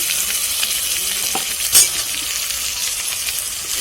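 Spices frying in hot oil in a pan for duck meat curry: a steady, close hiss, with a brief louder crackle partway through and a faint clink near it.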